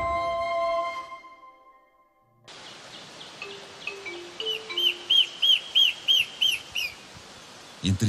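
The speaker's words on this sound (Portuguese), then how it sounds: "vive um pássaro que só existe neste lugar. O seu canto potente chama a atenção." A bird endemic to this place, living among vines and bromeliads, sings a powerful song: a rhythmic series of bright, repeated chirping notes over steady background hiss, following a short unrelated tone at the start.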